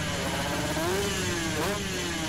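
Motorcycle engine revving hard in a street speed contest between workshop-built bikes, a loud, close, sustained roar with rising and falling pitch and no pause, heard alone.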